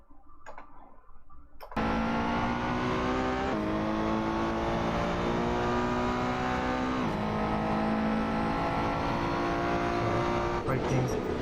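Race car engine at Spa-Francorchamps in a racing video game, starting after a quiet moment and then revving loudly and steadily with rising pitch through gear changes, under someone talking.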